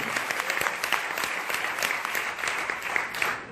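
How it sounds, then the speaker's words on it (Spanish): A steady wash of audience applause fills a product presentation event, dense and continuous throughout with no clear speech. "Un aplauso para todos ustedes"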